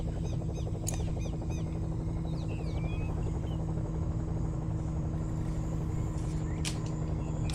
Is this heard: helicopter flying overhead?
yes